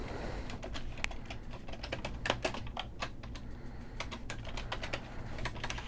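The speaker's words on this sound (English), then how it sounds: "I was just terrible at typing" Rapid, uneven keystrokes on a computer keyboard, close and crisp, with short pauses between bursts of clicking and no voices.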